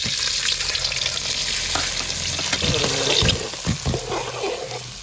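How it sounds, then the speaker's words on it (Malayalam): Chopped ginger, garlic, shallots and green chillies hit hot oil for a village-style fish curry, giving a loud, steady sizzle with a few stirring scrapes and clatters toward the end, no voices. "അരിഞ്ഞു വെച്ച ഇഞ്ചിയും വെളുത്തുള്ളിയും ചുവന്നുള്ളിയും പച്ചമുളകും കൂടി ഇട്ട് കൊടുക്കാം"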